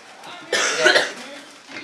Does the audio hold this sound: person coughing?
yes